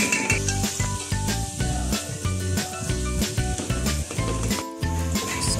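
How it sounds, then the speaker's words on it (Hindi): Onions fry in half a cup of hot oil, with a steady close sizzle and hiss running under background music and staying at an even level throughout. "1/2 कप ऑयल गरम किया, उसके अंदर मैं प्याज को पकाऊंगी।"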